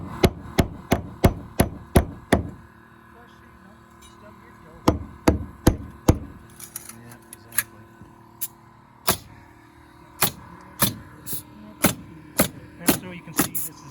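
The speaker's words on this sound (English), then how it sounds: "I'm going to take a hammer and whack those in." A hammer knocking protruding nails into wood, sharp loud whacks in quick bursts of six or seven strikes separated by pauses, with quieter handling noise between them, close to the listener.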